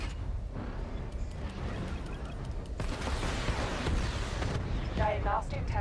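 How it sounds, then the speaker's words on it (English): Missile barrage launched in Batman: Arkham Knight, a sustained wall of booming, crackling blasts that swells louder after the first few seconds, with game voices speaking over it. "Missile barrage level 2 ready."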